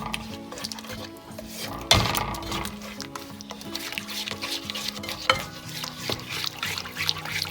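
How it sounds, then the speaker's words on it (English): A spoon scrapes and swirls through a pan on low heat as cold milk is worked into flour, giving a busy, continuous stirring with occasional clinks against the metal. "Alright, so let's add milk slowly. Turn the heat to low. Stir it continuously."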